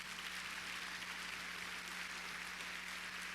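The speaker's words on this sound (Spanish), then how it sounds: "Dele un aplauso fuerte a Jesús." A church congregation applauds during a Spanish-language sermon, heard as a faint, distant, steady wash of clapping over a low constant hum throughout.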